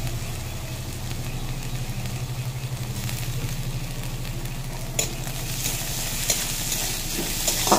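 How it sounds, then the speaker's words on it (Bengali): Ginger-garlic paste frying with onions in a pan, giving a steady low sizzle with faint stirring scrapes and a few clicks toward the end, no voices. "দিয়ে আদা রসুনটা ভালো করে পেঁয়াজের সঙ্গে ভেজে নেব।"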